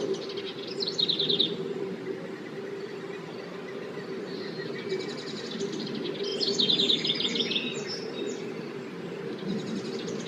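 Ruby-throated hummingbirds flit near a garden, with a steady low buzzing hum and scattered high chirps and twitters, moderately close and continuous, with no talking.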